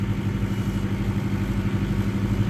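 A tractor's hydraulic motor turns a hose reel as the hose winds in slowly, giving a steady, close, even mechanical hum with a faint clatter.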